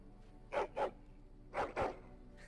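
Dog barks in the Dragon Age video game, four loud bursts in two pairs, each pair a quick double bark, over a low steady background hum.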